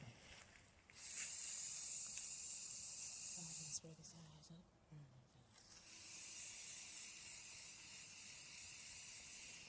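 White paint sprays from an aerosol can onto a tray table in long steady hisses, loud and close, pausing briefly in the middle before a second sustained burst.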